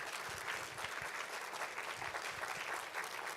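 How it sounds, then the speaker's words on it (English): Audience applauding at a university lecture event, steady dense clapping sustained throughout without a break, fairly close and even in level. "Let's give them a round of applause."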